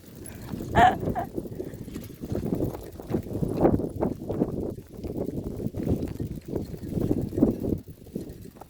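Horses at a horse farm, with irregular shuffling hoof sounds and movement close by, a brief sharp call early on and faint voices mixed in the background.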